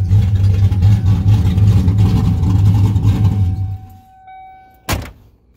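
Loud, rumbling idle of a Ford Mustang engine running steadily up close, then cutting off, followed by a single solid thunk like a door or hood closing.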